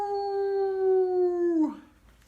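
Children imitate a dog's howl, voicing one long, steady, tonal howl that bends and falls away at the end.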